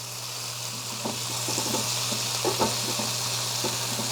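Hamburger patties sizzle and fry steadily on a COSORI indoor grill, with scattered scraping and tapping as they are flipped, close and fairly loud, no talking.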